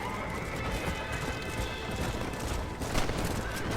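A horse gallops in Red Dead Redemption, rapid rhythmic hoofbeats pounding close and loud, with a whinny and a burst of gunfire-like cracks near the end.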